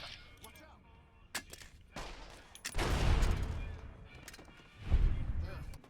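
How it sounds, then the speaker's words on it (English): Two frag grenade blasts in Fallout New Vegas, each a loud booming burst with a rumbling tail, the first about midway and the second near the end, following scattered smaller gunfire-like pops. "All it takes is 2 frag grenades to take him out and his goons, with the second grenade having a beautiful bounce."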